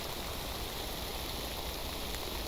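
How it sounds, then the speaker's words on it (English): Steady rain falling in the Minecraft video game, a soft continuous hiss with no talking over it. "it just immediately started to rain"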